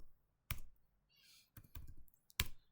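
Computer keyboard keys clatter in a few short, sharp bursts separated by brief pauses, close and fairly quiet in an otherwise still room.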